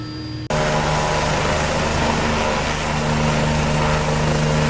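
Bell 429 helicopter hovering in X-Plane 11: a steady, loud turbine and rotor drone with constant engine tones that starts abruptly after a brief quieter moment and holds evenly throughout.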